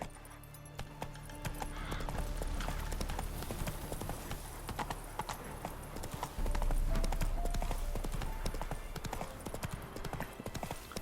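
Roach the horse galloping in The Witcher 3, a fast steady clip-clop of hooves with a brief whinny, loud and close over game ambience, no talk.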